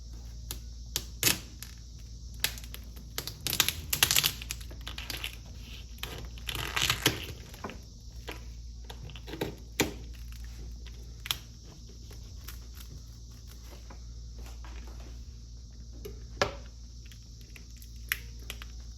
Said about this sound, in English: So the first thing I'm going to do is to cut my lobster.